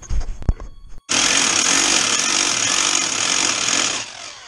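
A pneumatic impact wrench hammers in one sustained, loud rattling burst on the coilover suspension of a Honda Civic EP3, preceded by a few short clanks and followed by a brief tail.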